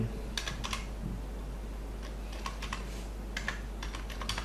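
Typing on a computer keyboard, several quick bursts of clicking keystrokes in short clusters, close and crisp over a low steady hum, ending with separate key presses including the enter key.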